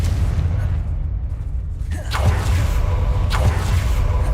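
A Confringo blasting spell explodes in the Hogwarts Legacy video game, giving two sharp bursts with whooshing tails over a steady low rumble of game sound.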